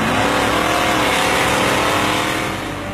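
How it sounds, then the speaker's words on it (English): Drag racing cars on a converted airfield landing strip at Gimli roar loudly and continuously, a dense, close engine blast that holds steady and eases slightly at the end. "The Gimli landing strip has been converted into a drag racing strip."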